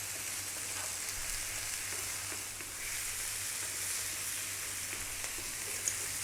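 Spices for a chicken curry fry in hot oil with a steady, close sizzle, and a spoon or spatula stirs them now and then through a continuous crackling hiss.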